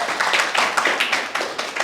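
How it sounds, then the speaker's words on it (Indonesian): A short burst of clapping from a small classroom group after a group presentation, steady and fairly close, lasting just a couple of seconds with no voices. "Tepuk tangan dulu dong kelompok 1."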